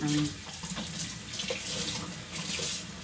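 Running tap water splashes steadily into a sink as food is rinsed under it, close and continuous, with a brief voice near the start.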